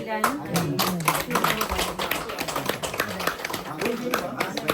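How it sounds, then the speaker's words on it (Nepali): Audience clapping at a community event honouring a former vice mayor elected councillor in Barnet, London, crisp and rhythmic with a voice talking over it. "सबैलाई एकचोटि ताली"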